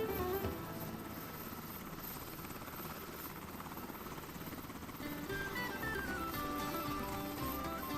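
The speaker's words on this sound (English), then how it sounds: "This free heli was the reason I migrated to Microsoft Flight Sim back in 22." A Bell 206B helicopter flying in Microsoft Flight Simulator, a steady droning rotor and turbine whine holding level throughout with a slight tonal shift partway, alone without speech.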